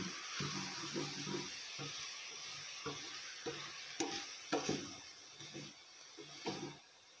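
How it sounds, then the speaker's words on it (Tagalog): Vegetable samosa filling being stirred in a pan, with repeated rhythmic scraping strokes over a low sizzle, fairly quiet and close, with no voices. "Haluin natin."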